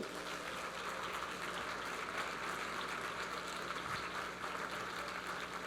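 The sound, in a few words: applause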